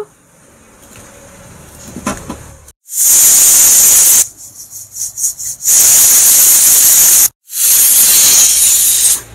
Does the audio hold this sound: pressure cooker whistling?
yes